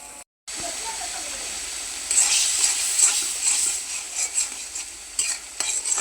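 Potatoes and spices being fried and stirred in a pan, with a steady close sizzle and hiss that brightens midway as the stirring spoon scrapes and clatters irregularly, after a brief silent gap at the start.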